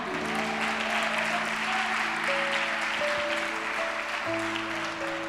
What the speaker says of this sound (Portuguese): aplauda esse Deus bem forte